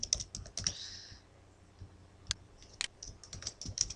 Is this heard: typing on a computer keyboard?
yes